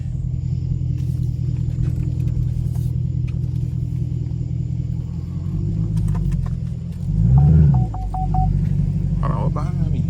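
Straight-piped 2017 Chevrolet Camaro SS cruising at night, its low exhaust rumble droning steadily throughout, swelling briefly into a louder surge near the end, with faint voices and a few small electronic beeps over it.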